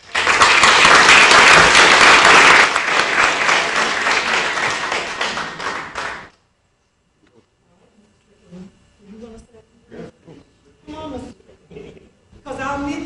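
Audience applause at an Essex County First Tee event, loud and dense clapping for about six seconds, then it stops abruptly and leaves near-silence broken by a few faint taps and murmurs.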